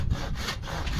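A hand saw works through a wooden stake in a vegetable garden, with steady back-and-forth strokes that rasp close and loud without pause.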